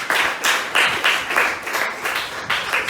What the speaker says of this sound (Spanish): Denle un aplauso al Señor por ella.